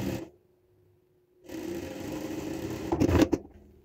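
A sewing machine runs in a steady close whir while stitching a zipper onto a baby romper, after a brief silence and ending with a louder burst.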